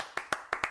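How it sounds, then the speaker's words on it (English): Hands clap four times in a quick, slightly uneven rhythm, each clap sharp, close and fairly loud, with no voices. "Clap, clap, clap, clap, clap,"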